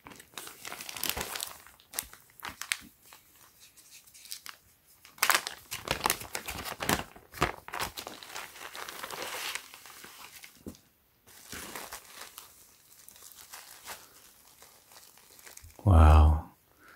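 Ziploc plastic bag crinkles and rustles as it is handled, with bursts of close crackling and crumpling that come and go, then a brief louder thump near the end.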